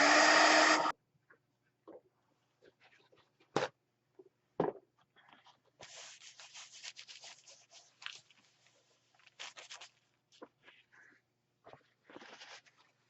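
A dryer used to dry ink on a journal page gives a loud steady whoosh for about a second, followed by quiet scratching and handling sounds.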